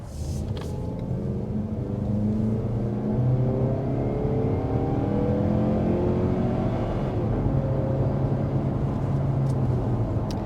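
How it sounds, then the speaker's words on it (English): A 2023 Mazda CX-30 under hard acceleration from inside the cabin, its engine drone climbing steadily in pitch through several upshifts, loud and continuous with no talking. "let's go ahead and kick our test drive off by getting a hard acceleration"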